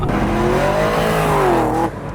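A 505 wheel-horsepower Pontiac G8 with a MagnaFlow exhaust accelerates hard, its engine note rising steadily in a loud, continuous roar before it cuts off abruptly near the end.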